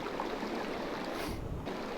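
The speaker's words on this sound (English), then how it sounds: "Wow, what a strange cube making water sounds" Trickling, burbling water effect played from a virtual cube in a Unity augmented-reality scene, its pitch raised while held; a steady, close babbling wash that shifts in tone partway through, with no talk.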